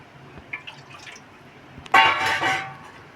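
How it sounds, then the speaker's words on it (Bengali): Water poured into a wok on the stove while steaming hilsa, a short burst of splashing pour after a few faint kitchen clinks, loud and close for about a second then tailing off. "কড়াইতে জল দিয়ে দিচ্ছি"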